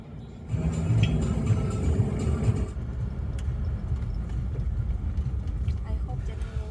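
Car driving on a road toward a border crossing in Ukraine near Chernivtsi, with a steady, loud low engine and road rumble heard from inside the cabin that drops slightly in level partway through.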